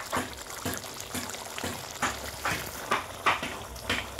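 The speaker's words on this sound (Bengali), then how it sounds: "অল্প একটু জল দিয়ে দেব, খুব বেশি জল দেব না" Water trickles into a pan of Bengali potato curry (aloo dum) in a few short, soft splashy pours spread over a few seconds, with faint kitchen background.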